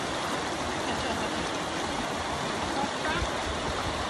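Someone washing in a stream after a hard enduro ride at a race camp, a steady loud rush of flowing water filling the short stretch with no clear breaks.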